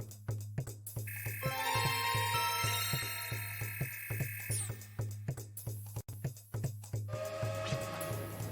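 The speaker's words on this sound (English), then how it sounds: "the noise trains make." A steam train whistle sounds in the Wild Arms 3 video game, a long shrill hissing blast over a steady chugging locomotive rhythm with regular puffs, alongside game music tones and no voices.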